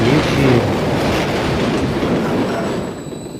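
A train rumbling along in the video game Call of Duty MW3, a loud, continuous roar of wheels and rails with a rushing wash that eases slightly toward the end, a thin whine appearing late.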